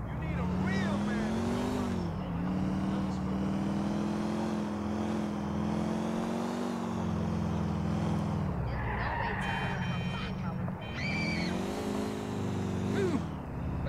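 A bullet-riddled car driven in the game GTA IV, its engine droning steadily and revving through shifts, with skidding tire squeals and a brief burst of clatter midway, loud and continuous.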